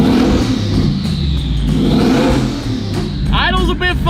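Twin-turbo V8 Ford Raptor revving hard up close, the engine surging and roaring under a man's excited speech near the end.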